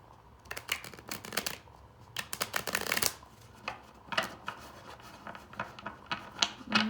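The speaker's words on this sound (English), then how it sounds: "It's going to be hard to shuffle as I get them broken in" A new, stiff deck of tarot cards being shuffled in quick riffling bursts, with crisp papery flutters and pauses between rounds, close and fairly quiet.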